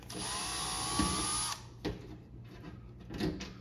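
A power drill backs out two small screws from a dishwasher toe-kick panel during installation: a steady high whine for about a second and a half, then short bursts of motor spin, close up with no talk.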